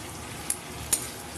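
Fish pieces and fish heads are stirred in a frying pan, a low steady sizzle with two quick scrapes of the spatula against the pan.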